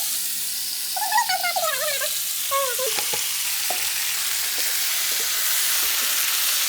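Tomatoes for momo sauce fry in a pan with a continuous bright sizzle, a short whistling tone early on, then scattered soft taps of stirring as the hiss holds steady.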